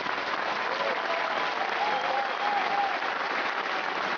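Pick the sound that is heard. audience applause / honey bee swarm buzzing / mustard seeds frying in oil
audience applause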